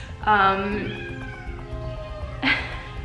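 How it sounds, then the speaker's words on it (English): A cat meows twice, a drawn-out tonal cry followed by a shorter one, fairly close and standing out against a quiet room. "Funnily enough, if you heard that, that is my cat, Phoebe."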